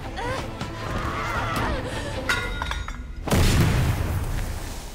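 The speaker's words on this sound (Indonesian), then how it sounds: "bom pun meledak." A loud, sudden bomb explosion bursts out with a deep rumbling boom, following a stretch of muffled, noisy background sound.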